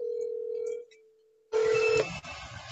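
A phone on an outgoing call sounds a steady ringback tone that pauses, then a harsher, louder burst of line noise and tone follows, close and with no talk.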